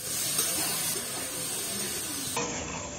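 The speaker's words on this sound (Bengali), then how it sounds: "এবার আমগুলো দিয়ে দেব আমগুলো একটু নাড়াচাড়া করে ভেজে নেব" Raw mango pieces fry in hot oil tempered with black mustard seeds and spices, a steady close sizzle and hiss with soft stirring scrapes throughout.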